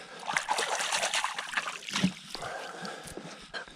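A released fish splashes back into the lake near a boat among sparse weeds, a brief close splash and slosh of water amid light outdoor noise.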